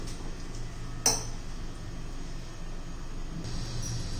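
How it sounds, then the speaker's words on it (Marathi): An iron tava griddle is set onto a kitchen stove, giving a single sharp metallic clink over a steady background hiss and low hum. "आता झालेलं आहे आपण तवा गरम करण्यासाठी ठेवते"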